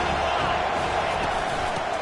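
A dense, steady roar of a college football stadium crowd cheering, loud and continuous for the whole two seconds with no break or single standout voice.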